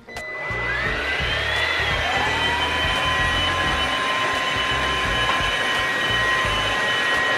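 An OSOTEK H200 wet vacuum cleaner runs in water suction mode with a loud, steady motor whine that rises in pitch as it spins up and then holds at a continuous high drone.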